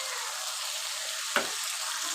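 Cashew and raisin paste sautés with turmeric and a little water in a pan for a fish kalia. A steady, close sizzle holds throughout, broken by one brief stir or scrape.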